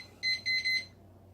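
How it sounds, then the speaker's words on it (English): A small writing-sprint timer goes off with three quick, shrill electronic beeps, the first two short and the last a bit longer, close and clear over a faint hum, then stops. "I use this timer."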